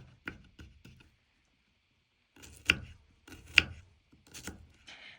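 Garlic being chopped for borscht with a knife on a board: scattered soft taps and crisp cuts in small irregular bursts, close but fairly quiet, with pauses between.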